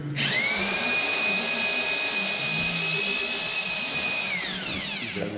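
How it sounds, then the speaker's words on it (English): A power drill with a paddle mixer whirs up to a high steady whine while mixing thinset mortar for a tile floor, holds for about four seconds, then winds down, loud and close with no talking. "now it's time to mix up some mortar thin set"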